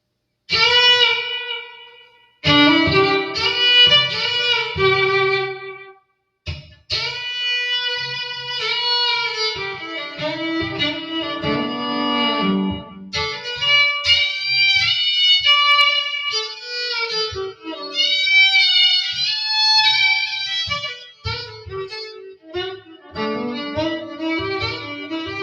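Kinglos Dove electric violin phrases, with reverb and delay effects, ring out with a spacious, echoing tail, notes lingering and overlapping after each stroke.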